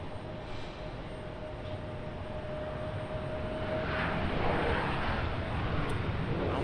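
Southwest Airlines airliner passing at an airport, a steady broadband engine roar that grows slightly louder toward the end, fairly distant and without speech.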